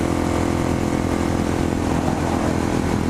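A Kawasaki Ninja 400 motorcycle engine drones steadily as the bike is ridden, a continuous, fairly loud hum with a low rumble that holds even throughout.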